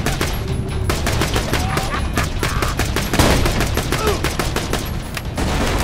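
A grenade blast and rapid gunfire in the looter shooter Borderlands 2 form a dense, loud, continuous barrage of closely spaced shots, with a heavier boom around the middle and brief talk mixed in.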